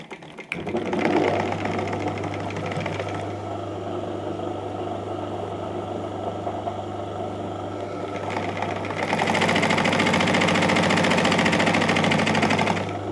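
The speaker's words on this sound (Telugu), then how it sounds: "ఇక్కడ నుండి ఇక్కడ చిన్నగా మనం కుట్టు వేసుకోవాలి పైనుండి" An electric sewing machine stitches a side pocket joint on a garment, running in a steady fast mechanical whir near the microphone for over ten seconds, growing louder and busier toward the end, with no talking.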